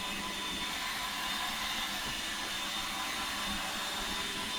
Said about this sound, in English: So Roomba's doing his job of cleaning.